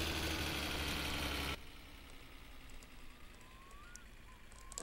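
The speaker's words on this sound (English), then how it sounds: "That's my engine trying to blow up." Moped engine straining in My Summer Car, a loud droning rattle that cuts off abruptly to a quieter running hum with faint whines.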